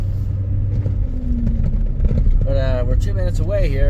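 A Duramax diesel pickup truck drives along a road, its engine and tires making a steady low rumble that runs under someone talking throughout.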